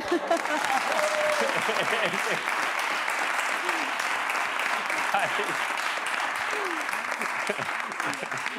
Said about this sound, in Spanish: O aplauden todos o aplaude uno